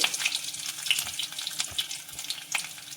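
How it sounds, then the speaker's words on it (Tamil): Dried chillies and pieces of ginger sautéing with urad dal in a pan, a light continuous sizzle with soft crackles and faint stirring scrapes, close by, with no talking. "இந்த வத்தல் கொஞ்சம் நல்லா வதக்கணும்"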